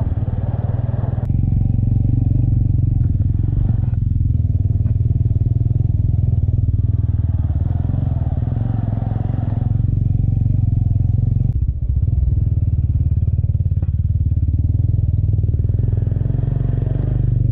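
A motorcycle engine drones loudly and continuously at close range on the road to Chitlang, Nepal, with occasional rattles and shifts in pitch as it rides along.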